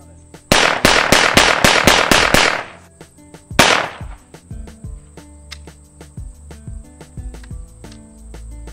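A semi-automatic pistol loaded with Pyrodex black powder rounds fires a rapid string of about eight loud, evenly spaced shots, then one more single shot after a short pause, followed by metallic handling clatter.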